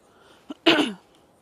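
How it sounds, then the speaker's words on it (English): A person, ill and hoarse, gives a short faint throat sound followed by one sharp, close cough. "Sorry, I hope I will stop coughing soon."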